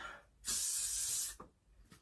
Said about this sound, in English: I'm just going to do a last final spray all over of my hairspray